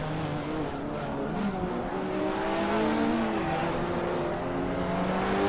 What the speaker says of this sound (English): Yeah, you can't out-drag a Corvette, Blossom. It's a Corvette.